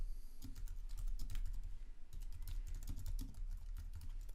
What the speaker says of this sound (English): So let's type some subcopy here.